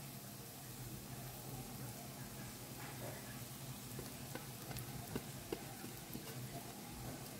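Prawn noodles stirred in a pan over a low flame, with a steady dense sizzle and frequent scraping and clicking of a utensil against the pan throughout.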